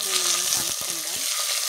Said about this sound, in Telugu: ఇప్పుడు దీన్ని మనం కలుపుకుందాం.